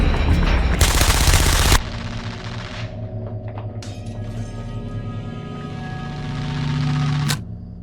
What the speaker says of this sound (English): he's interrupted by the police, who shoot him